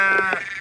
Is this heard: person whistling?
no